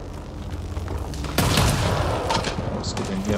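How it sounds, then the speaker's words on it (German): Gunfire in Mass Effect: Andromeda, a sharp boom followed by scattered distant shots and rumble, with a voice speaking over the fighting. "Jemand schießt doch hier, oder?"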